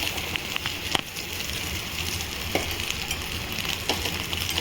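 Rice stir-fried in ghee with onion and chilli sizzles steadily in a pan, with occasional scraping taps of a spatula stirring, close and continuous with no talk.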